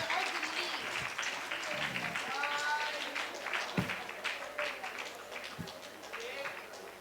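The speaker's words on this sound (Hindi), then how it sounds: "जोरदार तालियां" Audience at a women's committee annual award ceremony applauds continuously for several seconds, a busy wash of clapping with occasional low thumps and voices mixed in.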